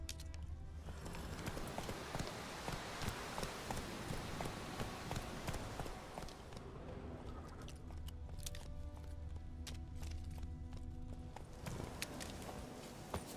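Roach, a horse in The Witcher 3, gallops in rapid rhythmic hoofbeats that continue steadily throughout, set against outdoor ambience at moderate volume, with no talking.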